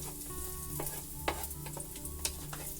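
Ginger and garlic sizzle as they fry in a pan, a steady crackling hiss broken by a few sharp spatters and stirring clinks, close and unaccompanied by voices.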